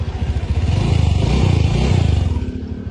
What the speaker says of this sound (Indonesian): Dan ini untuk bagian suara mesinnya